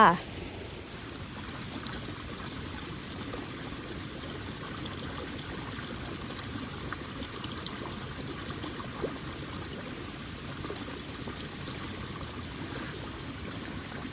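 A stream runs through a Swedish forest, giving a soft, steady rushing that holds evenly throughout, with no voices over it.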